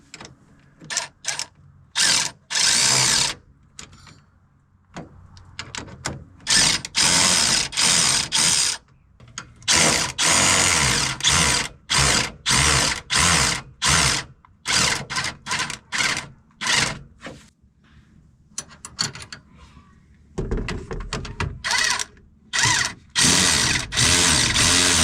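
Power tool bursts tightening bolts on new a-arms of a RZR side-by-side, a rapid series of loud whirring, ratcheting runs separated by short pauses, close by with no talking.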